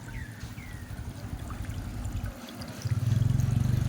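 Water trickles and splashes steadily in a small artificial waterfall among bonsai pots, a soft continuous flow that swells a little louder toward the end.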